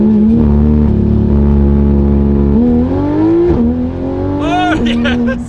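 A Porsche GT3 RS pulls away with its pit speed limiter engaged, the engine holding a steady droning pitch that surges and cuts back in stuttering steps, loud and close from inside the car.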